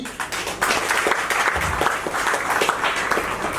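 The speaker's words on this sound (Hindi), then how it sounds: "तालियों में कंजूसी मत करो यार" Enthusiastic audience applause at a book launch event, a dense, loud burst of many hands clapping together that holds steady for several seconds.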